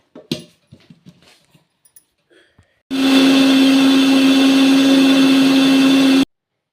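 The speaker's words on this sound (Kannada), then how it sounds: "ಪಲ್ಯವನ್ನು 1 ಸ್ಪೂನ್ ಹಾಕಿಕೊಂಡು ಅದನ್ನು ರುಬ್ಬಿ ರೆಡಿ ಮಾಡಿಕೊಳ್ಳೋಣ" A mixer grinder grinds spice paste with a spoonful of stir-fried greens for horse gram sambar, starting abruptly with a loud, steady motor whine and roaring churn that runs about three seconds before cutting off, after a few soft clatters.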